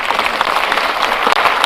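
A crowd at a national housing program event in Bomas claps for the President in a dense, steady burst of applause.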